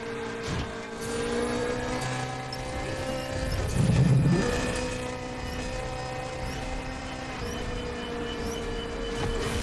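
A Nissan Fairlady's engine drones steadily while racing in Need for Speed The Run, with a brief louder surge midway and no talking.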